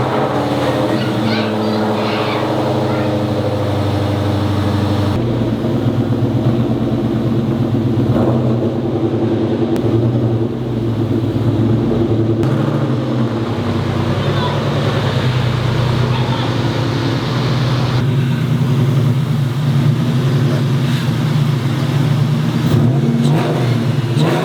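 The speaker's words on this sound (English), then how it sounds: "We're gonna pull the car out, wash it for now," A Ford SVT Terminator Cobra engine rumbles steadily and loudly close by as the car is driven out, a deep continuous drone with slight rises in revs.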